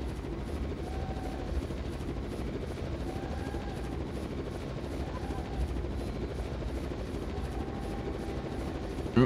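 Helicopter in the video game Zettai Zetsumei Toshi 2 (Raw Danger 2), a steady low rotor drone with faint repeating tones, constant and moderately distant throughout.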